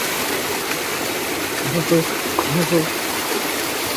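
Water runs from a spout in a steady outdoor rushing stream while a voice speaks briefly over it.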